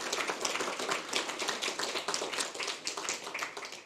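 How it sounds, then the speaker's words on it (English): An audience at an evening literary translation slam claps for the event organisers, a steady, dense patter of many hands lasting about four seconds at fairly low volume. "a round of applause for our organisers."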